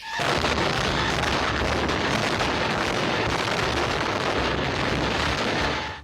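A loud, sustained roar of a dynamite building demolition blast in Recife, Brazil, a dense rumbling wall of noise that stays powerful for several seconds.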